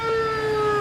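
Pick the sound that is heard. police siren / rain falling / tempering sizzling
police siren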